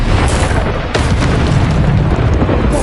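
The Bombarda explosion spell in Hogwarts Legacy gives a loud, continuous blast with a dense rumbling roar that fills the whole moment without a break.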